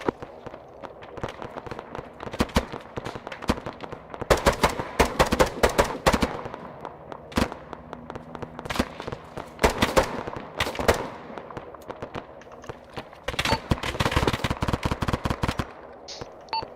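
Video-game gunfire in Arma 3, with dense bursts of rapid automatic fire and scattered single shots, loud and sharp, coming in irregular clusters over a low ambient background.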